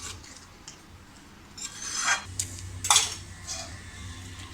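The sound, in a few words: stirring soya chunks masala in a pan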